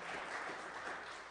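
Dense applause from a crowd at a quinceañera Mass, even and continuous for a brief moment, heard at moderate distance with no talking.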